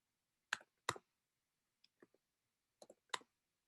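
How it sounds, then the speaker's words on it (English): Clicks of keys being typed on a computer keyboard during a game demo, a few sharp separated taps and small clusters in a quiet room. "Aiden, can you please type into the keyboard CS61B?"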